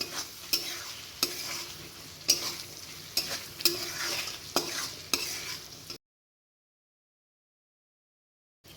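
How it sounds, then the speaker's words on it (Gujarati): Spices are stirred into sizzling vegetables for veg pulao in a pan, with a soft frying hiss broken by about seven sharp spoon scrapes at a regular pace, then silence. "મસાલો ઉમેરી લીધા પછી આપણે બધું સરસ મિક્સ કરી લઈશું।"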